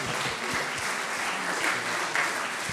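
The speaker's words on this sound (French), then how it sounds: "qu'on l'applaudit bien fort" Steady, dense applause from a crowd at a business awards ceremony fills the whole stretch, loud and continuous with no voices standing out.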